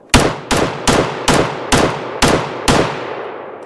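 A CZ Bren 2A2 carbine firing Phoenix ammo, seven loud, close semi-automatic shots in an even rhythm about half a second apart, each with a short decaying echo.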